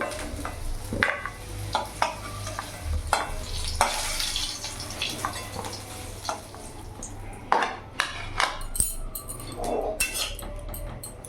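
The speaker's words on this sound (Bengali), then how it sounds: "আলুটাও লাল লাল করে ভেজে নিয়েছি" Potatoes fry in oil for a silver carp curry, a soft sizzle under frequent sharp clinks and scrapes of a utensil against the pan, irregular and fairly close.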